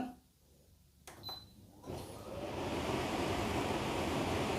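A portable air conditioner switches on in a hot room, and after a couple of brief clicks a broad, steady rush of blowing air swells up and holds loud and even to the end.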